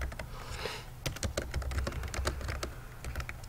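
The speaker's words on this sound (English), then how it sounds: "So I typed a very simple letter." Quick, steady typing on a computer keyboard while a simple letter is written, with close, crisp keystrokes running continuously and no speech.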